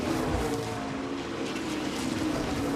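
A.J. Allmendinger's Kaulig Racing stock car at the 2021 Henry 180 road course, a steady loud engine roar that dips slightly and builds again as it brakes and accelerates through the turns.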